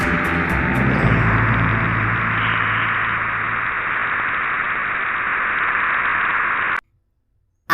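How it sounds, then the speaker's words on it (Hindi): Jupiter's plasma wave signals converted into sound form a steady, loud hiss of static with a faint buzzing edge. The noise holds for nearly seven seconds, then cuts off abruptly into silence. "जुपिटर का साउंड आप अभी सुन सकते हैं।"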